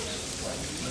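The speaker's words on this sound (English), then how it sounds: "Then it's raining." Rain falls steadily outside, a dense, even patter of drops on surfaces with no break, moderately loud and close.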